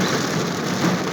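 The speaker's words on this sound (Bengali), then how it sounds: "প্রচুর বৃষ্টি বৃষ্টি বৃষ্টি" Heavy rain pours down in Riyadh, Saudi Arabia, with a dense, steady hiss of drops hitting surfaces, loud and unbroken with no voices.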